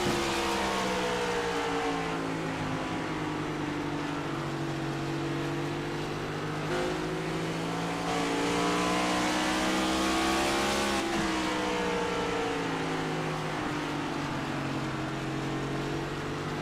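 ICON Cup Series race cars battle at Richmond, their engines droning loudly and steadily with rising and falling pitch as several cars run close together, no voices over the roar.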